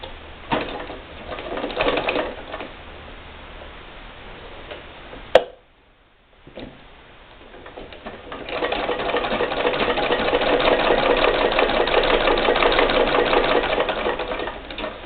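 White treadle sewing machine running on a polypropylene belt, giving a steady rhythmic mechanical clatter that drops to near silence for a moment, then resumes louder and fuller, continuing evenly to the end with no talking.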